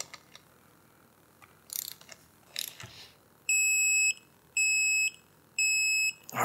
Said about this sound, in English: we're going to tighten this to 53 foot-pounds